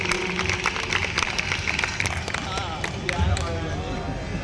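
Scattered applause and crowd murmur greet the artist Vilas Nayak at a rudra ritual gathering in Goa. The clapping is fairly faint and steady, mixed with voices and hall noise.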